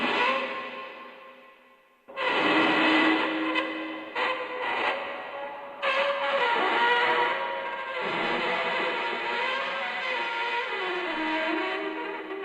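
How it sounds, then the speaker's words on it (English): Eerie, reverberant scraping and squealing tones that swell in after a brief fade, with grinding, metallic textures sustaining and shifting. "Squeaky and scratchy sounds always do the trick."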